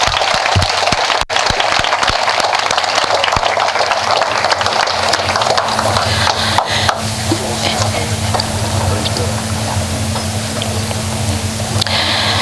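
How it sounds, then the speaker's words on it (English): Sustained applause from an audience at a school district board meeting, a dense, even wash of clapping that carries on for the whole stretch with a low hum underneath. "Let's give them a round of applause."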